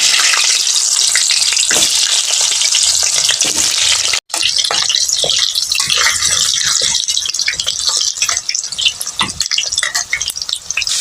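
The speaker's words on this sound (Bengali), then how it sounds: "3টে আলুকে এখন আমি ভেজে নেব" Three potatoes fry in hot mustard oil in a heated pan for a mutton kasha, giving a loud, steady sizzle with occasional scraping stir sounds and one very short break near the middle.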